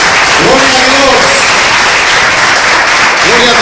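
Congregation applause at a church prayer service, a loud, dense and steady wash of clapping filling the whole stretch, with a voice briefly rising over it near the start and again at the end.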